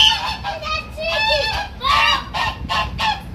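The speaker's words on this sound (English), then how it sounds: "Yes, it's a goose." A goose honks repeatedly at a recreational park in Lagos, loud and close, with a series of harsh calls in quick bursts.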